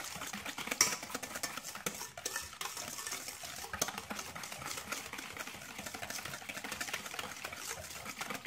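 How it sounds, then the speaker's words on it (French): A mixture is stirred in a dish, giving a quiet, continuous scraping and swishing that runs steadily from start to finish with no talking. "il n'y a plus qu'à remuer. Mélanger tout bien."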